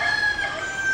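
A rooster crows steadily and loudly up close through the whole second, one sustained call with no talk over it.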